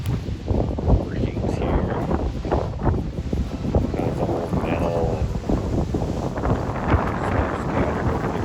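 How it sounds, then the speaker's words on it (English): Gusty wind buffets the microphone at an old coal-mine site in a ghost town, roaring steadily and loudly beneath a voice that talks throughout. "It's getting pretty windy here"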